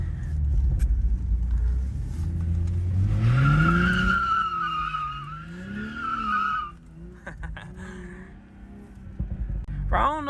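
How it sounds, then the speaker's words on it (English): A BMW M340i skids on a wet road, with engine revving and rising tonal tire squeal sweeping up and down over several seconds, loud and close, followed by scattered knocks. "Let's see if we can get a little skid."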